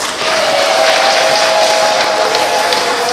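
Applause rises from the congregation at a Sunday confirmation church service, a dense, fairly loud patter of many hands clapping that holds steady from start to finish with no talk over it.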